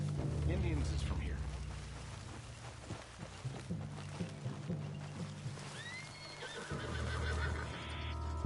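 In the Red Dead Redemption 2 video game, a horse neighs and whinnies amid hoofbeats and low rumbling, with game voices talking over the sounds.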